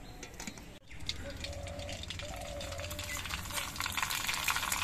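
Rice grains dropped into hot oil to puff, giving a soft continuous fizzing crackle that builds slightly after a brief dull knock, with a faint background hum.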